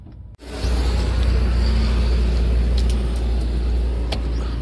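Steady low rumble of a car driving along an early-morning road, a continuous engine and tyre drone that kicks in after a brief quiet start and stays loud and close throughout, with no talking.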